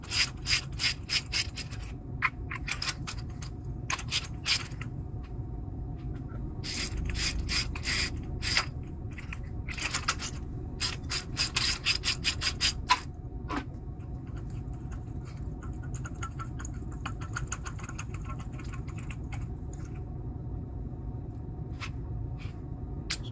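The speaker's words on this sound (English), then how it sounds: "I have to pull it with the pliers" Pliers work a cheap ignition coil boot locked onto the spark plug of a Toyota Camry 2GR-FE V6, making close, repeated bursts of creaking, scraping clicks with short pauses between tugs.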